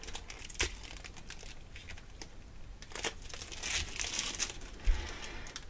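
Plastic wrap being peeled off a cassette-style package, close crinkling and crackling with a few sharper tearing bursts, no speech.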